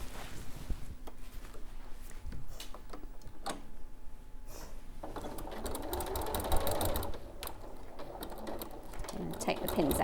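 A domestic sewing machine stitches along the extended lines of a Sanderson quilt, running in a steady mechanical patter through most of the stretch while someone talks over it.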